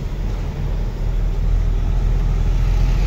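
Jammed traffic under a bridge in Dharampur: a constant low rumble of idling and creeping vehicles, steady and even throughout with no voices.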